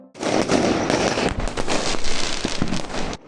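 Diwali firecrackers bursting over a small town in Uttar Pradesh, watched from a rooftop terrace: a dense, loud, continuous crackle of overlapping pops and sharp bangs with no gaps.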